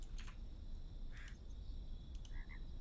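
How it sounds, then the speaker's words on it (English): A frog in the video game Glitchhikers croaks in a few short, quiet bursts over a faint low background hum, spaced about a second apart. "Oh, that was a frog."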